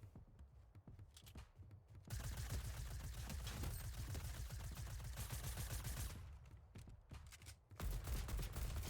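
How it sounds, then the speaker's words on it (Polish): Rapid bursts of Fortnite gunfire crackle in long sustained volleys with brief gaps, dense and rattling, like automatic weapons at mid distance. "Dużo strzałów i nie wiem skąd"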